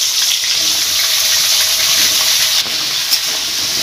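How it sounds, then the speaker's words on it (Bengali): Aubergine, potato and flat beans sizzling together in hot oil in a wok seasoned with cumin, a continuous bright hiss with small pops, steady and close, no voices. "এবার এর মধ্যে বেগুন, আলু, সিম সব একসঙ্গেই ভেজে নেব।"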